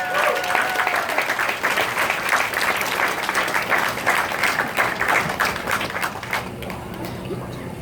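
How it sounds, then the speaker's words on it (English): Lawmakers give a senator a warm round of applause at a legislative honoring ceremony for a suicide prevention walk, with dense, lively clapping sustained for several seconds before tapering off near the end. "Can you give him a warm round of applause, members?"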